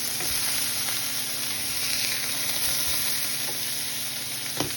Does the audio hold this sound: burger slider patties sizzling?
yes